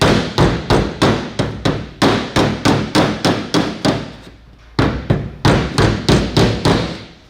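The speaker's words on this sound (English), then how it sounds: "I cannot just keep banging on this" A dented body panel on a Scion tC is struck with a hammer in a quick, loud, steady rhythm of sharp metallic blows, broken by one brief pause before the strikes resume.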